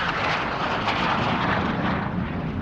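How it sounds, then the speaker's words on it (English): F-86 Sabre jet at the 2001 Westfield International Air Show, a loud roaring broadband jet rush that stays steady and close for a few seconds with no talking. "I am the lucky guy who gets to fly this F-86"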